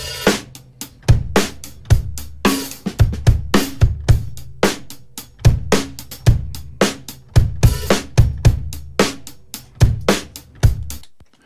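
A full drum kit captured by four close microphones plus an overhead pair in recorder-man placement, playing a steady groove of punchy kick and snare hits with cymbals, loud and without talk.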